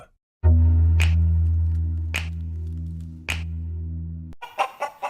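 Chickens clucking in a radio advertisement for a farm feed store, a loud low steady tone with a few sharp hen calls over it, then a burst of quicker clucks near the end.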